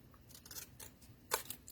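Scissors cut card in a few quick, quiet snips, close by and brief, with faint room noise between the cuts.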